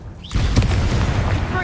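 A Confringo fire spell blasts in Hogwarts Legacy, a loud booming burst that hits and then rolls on as a dense, noisy roar for over a second, with a game voice speaking around it.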